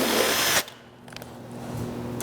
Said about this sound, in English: we're going to take a ½ inch spade bit and we're going to pop the holes in here